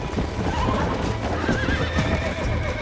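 A wild horse in the Red Dead Redemption video game whinnies loudly while its hooves clatter underneath, a short and close burst of game audio.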